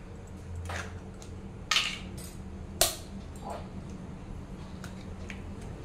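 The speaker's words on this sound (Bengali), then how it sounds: "তারপর আমি ডিমগুলো একে একে ফাটিয়ে দিচ্ছি।" Eggs cracked one by one into a large mixing bowl, a few sharp, close taps and cracks spaced apart over a quiet kitchen background.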